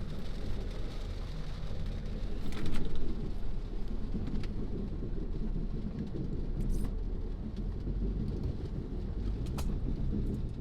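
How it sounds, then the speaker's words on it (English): Steady rain falls outdoors during a storm, a constant dense hiss with a few brief sharper spatters, and low rumbling underneath, like distant thunder or passing traffic. "it's still raining"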